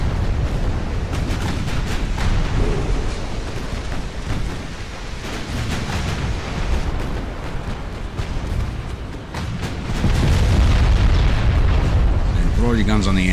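Battleship guns firing in the naval game Ultimate Admiral: Dreadnoughts, loud rolling booms and rumbling blasts that swell near the end, under someone talking.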